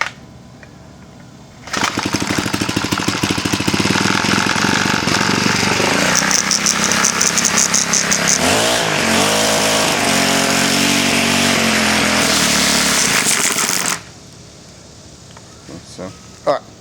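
A weedeater engine is cranked and then runs, its clutch and drum spinning. A loud, raspy two-stroke buzz starts abruptly, holds with some revving for about twelve seconds, then cuts off, leaving quiet background with brief knocks.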